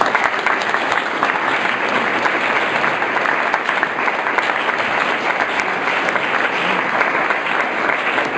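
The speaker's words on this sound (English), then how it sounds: "let's give another round of applause here" Sustained round of applause from an audience at a Boy Scout troop Court of Honor, many hands clapping steadily and evenly with a few sharper claps standing out.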